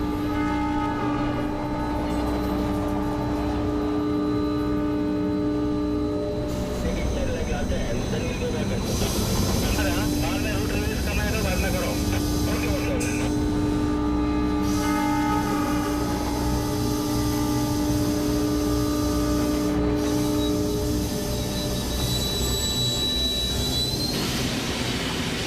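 A commuter train on a busy Mumbai railway line comes to an automatic stop on the track, with loud rumbling, a blaring horn and tonal squeals from the wheels and brakes, while a voice talks over it.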